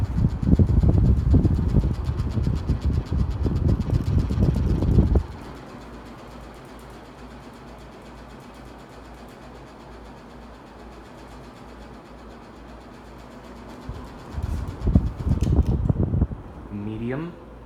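Emerson Designer plastic ceiling fan with a yellowed canopy running at high speed, a steady whooshing drone under loud talk at first, then continuing alone at a lower level before talk returns near the end.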